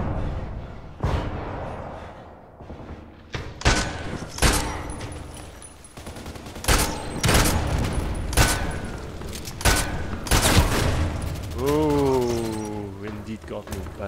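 A lighthouse defense in the shooter game Contract Wars brings sharp, loud gunshots in irregular single shots and short bursts, spaced across the stretch, with a voice speaking between them.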